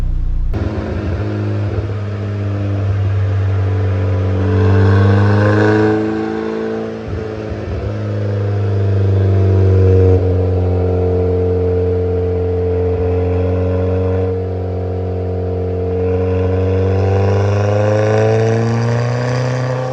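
A turbocharged Honda Civic with a B18B1 engine and blown-out muffler packing runs on a dyno, its loud, steady engine drone climbing and holding through a long sustained pull with a brief dip midway.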